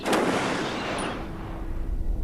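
A volley of rifle shots from a firing squad cracks out loudly at once, then rolls away in a fading echo over a couple of seconds, with no voices.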